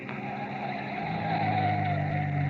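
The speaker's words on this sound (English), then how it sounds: "a single car slows to a stop" For a radio drama, a car slows to a stop on a lonely dirt road at night, its engine droning and tires grinding in a rising, sustained sound with no voices.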